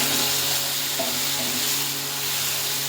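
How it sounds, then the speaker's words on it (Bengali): Four chilies drop into a spice paste frying in a pan, which gives a steady, close sizzle with faint stirring scrapes throughout and no talking. "তো এবার দেবো এখানে 4টে লঙ্কা দিয়ে দেবো।"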